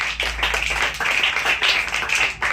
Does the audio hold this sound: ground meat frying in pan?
no